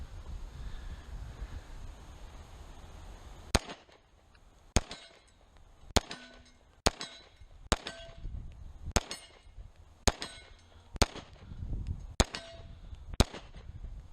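Pistol shots at an outdoor range, from a Smith & Wesson M&P9 M2.0 Compact or a Glock 19 Gen 4, crack out one at a time at a slow, steady pace, about ten sharp reports with quiet gaps between them.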